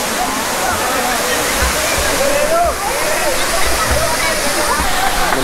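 Kongala waterfall, a seasonal fall in Telangana, pours in a loud, constant rushing roar close by, with faint voices mixed under the water.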